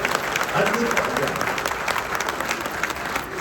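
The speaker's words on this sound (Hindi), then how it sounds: "एक बार जोरदार तालियां मोदी जी के लिए होंगे।" A crowd applauding steadily at a political party workers' rally, a dense patter of many hands clapping at moderate distance, with some voices mixed in.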